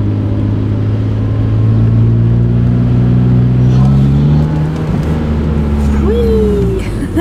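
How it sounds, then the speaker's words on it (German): A VW G60 car under way with its supercharger whining, a loud steady engine drone with rising and falling tonal whine over road noise, closing with a brief upward sweep; no one speaks. "Dieses Kompressorgeräusch ist schon geil."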